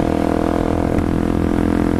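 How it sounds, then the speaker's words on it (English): A steady, low motorcycle exhaust rumble drones continuously at close range, heard from inside a helmet with the visor down, with no talking. "the exhaust kind of gets a little more bassier sounding."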